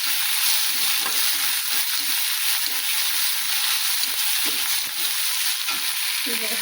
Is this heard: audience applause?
no